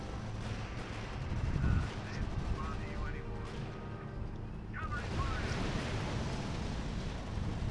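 Gunfire and artillery rumble in the real-time strategy game R.U.S.E., distant booms and crackling shots layered over a dense battlefield din, with voice lines and a few bird-like caws mixed in.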